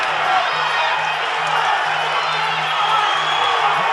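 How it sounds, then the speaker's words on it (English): Crowd at a Muay Thai fight in Perth roars and cheers steadily throughout, a dense, loud wash of voices with a low hum underneath. "The crowd has gone mental."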